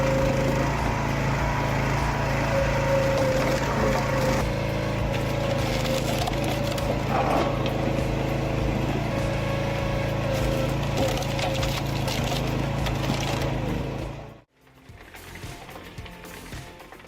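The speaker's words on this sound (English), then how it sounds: "Large logs are split into perfectly even pieces of firewood in the blink of an eye." A homemade automatic hydraulic firewood processor cuts and splits large logs into even pieces, giving a loud, steady mechanical roar with grinding and clattering wood noise that cuts off abruptly near the end, leaving quieter rumble.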